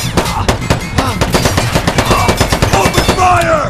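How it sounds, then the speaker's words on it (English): Rapid, loud machine-gun fire in the real-time strategy game Men of War: Assault Squad, a dense rattling volley of shots running steadily throughout with no pause. "Open fire!"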